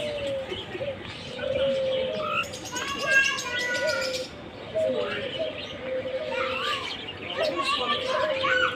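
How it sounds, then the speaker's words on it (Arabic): Pigeons in a hotel pigeon house coo and chirp steadily alongside other bird calls, with children's voices and chatter mixed in throughout. "بيت الحمام."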